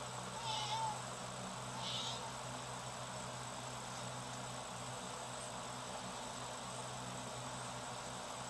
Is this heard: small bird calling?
no